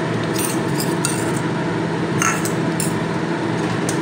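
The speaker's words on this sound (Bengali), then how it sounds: "তো নেড়ে দেবো ভালো করে, কালারটা মিশে যাবে" A spoon stirs a cornflour mixture in a bowl for jelly, making light, quick clinks and scrapes against the bowl in short bursts, close and clear.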